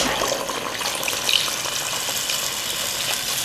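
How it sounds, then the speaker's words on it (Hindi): Water poured from above into a clay pot of beef and potato curry being set to simmer, a steady gushing splash at moderate loudness with no talk. "पानी डालते हैं और इसको गलने के लिए रख देते हैं"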